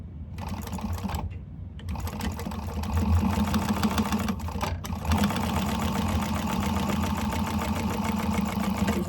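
A sewing machine top stitching a candy bag with contrasting thread, a fast steady mechanical whir running almost continuously after a couple of short pauses at the start.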